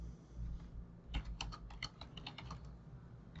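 Typing on a computer keyboard produces a quick, irregular run of close, light key clicks lasting about two seconds over a low room hum, with no voice.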